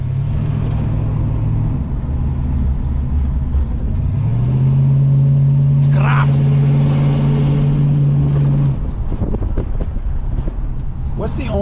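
A 1965 Ford Mustang convertible cruising through Montreal streets, a loud steady engine drone with wind rumble that shifts pitch midway as the car accelerates, with people talking over it.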